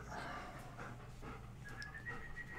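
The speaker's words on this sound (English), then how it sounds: "Gabby, what are you doing, you dumb dog?" A dog pants steadily for a couple of seconds, rapid breathy huffs close by with a faint whine or whistle, in an indoor room with no talk.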